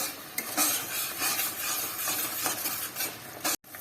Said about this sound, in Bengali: এটা দিয়ে ভালো করে এটা মিশিয়ে নিতে হবে